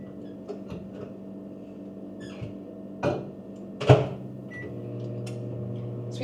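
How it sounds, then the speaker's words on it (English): A kitchen microwave hums steadily on reheating, with a few clunks and a louder knock or door-like thud partway through, close and fairly quiet, no voices. "this is going back in the microwave for a minute"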